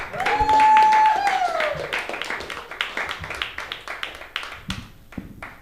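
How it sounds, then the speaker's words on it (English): Audience at an open mic stand-up comedy night greets a comedian with a rising whoop followed by scattered, moderately loud clapping that thins out, with talking over it. "Let's give her a round of applause."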